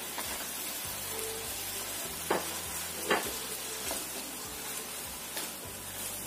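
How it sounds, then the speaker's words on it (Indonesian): Mustard greens and bean sprouts stir-fried for mie goreng give a steady hiss, broken by regular scraping strokes of a spatula and a couple of sharper knocks. "Kita tumis sampai layu."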